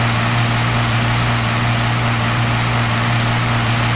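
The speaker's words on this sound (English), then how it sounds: "tractors are loud in real life. Especially old gas tractors." A loud old gas tractor engine runs steadily in a farming video game set in Texas, a constant close, droning low hum with a buzzy rattle and no talking.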